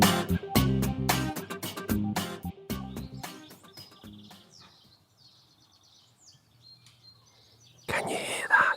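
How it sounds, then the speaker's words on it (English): A quiet garden with a few small birds chirping faintly in the distance after a burst of loud music fades out; sparse, soft calls over near-silence. "Apart from a few birds"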